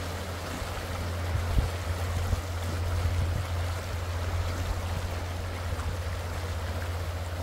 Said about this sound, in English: look at this amazing water running here